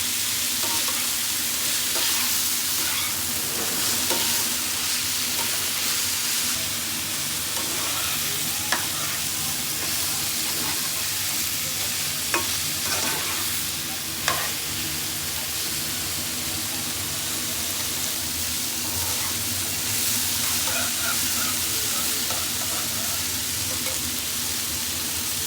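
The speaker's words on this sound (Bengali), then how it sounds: "সব ভেজিটেবলগুলোকে চিকেনের সাথে ভালোভাবে হালকা ভেজে নিতে হবে" Chicken, cauliflower and potato stir-fry in a hot pan with a loud, continuous sizzle, broken by occasional scrapes and clicks of a utensil.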